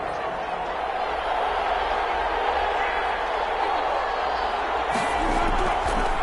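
Stadium crowd noise in a football video game on PS4, a constant dense roar of fans swelling toward the end, with a commentator talking over it.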